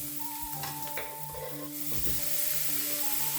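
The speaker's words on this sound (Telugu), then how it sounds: "టమాటాలు వేసిన తర్వాత కూడా కసాపిసా కలుపుతూనే ఉండాలి" Tomatoes and onions sizzle and fry in a pan for chicken curry while being stirred, with soft scraping and clinks from the utensil against the pan over a steady, close sizzle.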